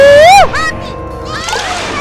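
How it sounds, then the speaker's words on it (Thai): Undersea wave power attack from the Mugen fighting game, a Sailor Moon versus Sakura match: a bright rising synthetic whoosh swells into a rushing, sloshing water burst, then a steady churning wash carries on loud to the end. "พลังคลื่นใต้สมุทร"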